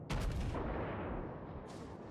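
Heavy naval ship guns in World of Warships fire in a loud, rumbling broadside that rolls on for about two seconds, with a second sharp report near the end.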